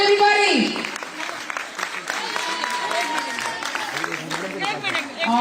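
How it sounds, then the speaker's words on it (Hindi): Applause from an audience at an International Women's Day celebration, a dense wash of clapping and crowd noise that holds steady for several seconds, with voices mixed in. "Can you all please put our hands together one more time for Mr."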